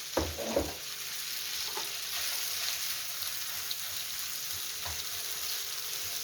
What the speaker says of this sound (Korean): 그리고 볶아주세요.